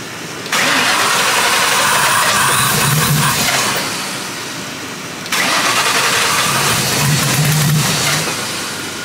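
A twin-charged Ford Crown Victoria, running without the hard pipe to its supercharger, is cranked and fires up twice, each start roaring loud and close before settling toward a rough idle.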